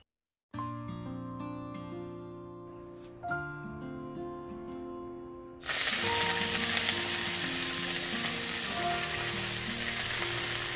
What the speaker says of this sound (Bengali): তো এখন শুকনো লঙ্কা আর তেল দিয়ে দিলাম